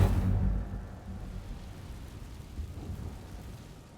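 An Incendio fire spell is cast in the game Hogwarts Legacy, a deep whooshing burst at the start that fades into a low, rumbling tail over a few seconds, with no voices.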